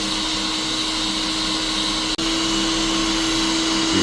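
Air blowing through a Cafemasy 400 gram coffee roaster, a loud steady whooshing hum with a constant motor tone and one brief dropout midway, close and unbroken.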